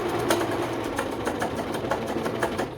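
A Vigorelli 238 sewing machine runs a straight stitch, a steady close mechanical whir with quick rhythmic needle clatter throughout, no voices.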